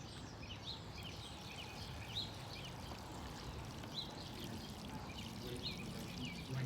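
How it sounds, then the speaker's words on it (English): Water is poured onto newly planted cucumber plants in a 5-gallon container, a steady soft splashing and trickling with no talk, moderately quiet and close. "I'm going to water these in"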